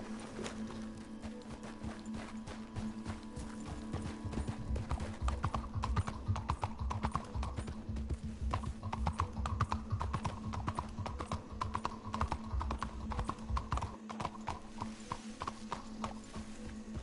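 Hooves of a horse in Red Dead Redemption 2 clip-clopping in a steady rhythm over a low ambient hum, close and continuous, with a brief whinny-like tone.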